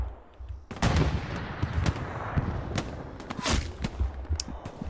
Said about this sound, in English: I couldn't get the shot lined up fast enough. I think I shot him, but it didn't kill him.